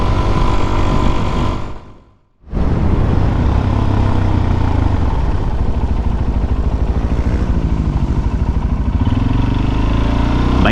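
Motorcycles riding past on a road, a loud close engine roar that drops away briefly and then surges back as another bike passes, steady and unbroken through the rest.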